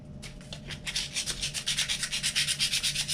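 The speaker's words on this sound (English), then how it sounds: "I'm just going to apply a little bit of sandpaper all around" Sandpaper rubbed around a wooden UGears Flight Starter model part, a close, steady run of rhythmic scratchy strokes that grow quicker and louder, alone with no talk.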